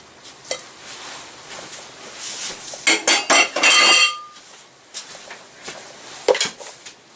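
Dishes and cutlery clink and clatter in a kitchen as salsa ingredients move into a much larger bowl. Soft handling noises lead to a dense cluster of sharp, close clinks, followed by a few scattered taps.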